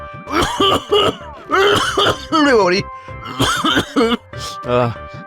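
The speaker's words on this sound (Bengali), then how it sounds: "শুধু শুধু শুকনো কাশি শুরু হয়ে গেল" An elderly man breaks into repeated dry, hacking coughs and throat clearing in a domestic scene, close and loud, the bursts coming in uneven clusters with short pauses between them.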